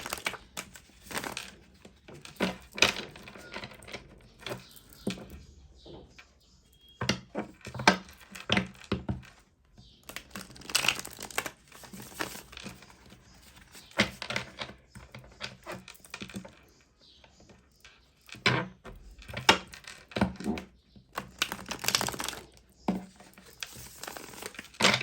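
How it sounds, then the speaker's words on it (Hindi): Tarot cards drawn and shuffled from a deck during a love reading, giving close, repeated papery flicks and rustles in irregular bursts with quiet gaps between. "इस डेक से भी 4 कार्ड्स निकालेंगे और 4 कार्ड तीसरे डेक से भी निकालेंगे।"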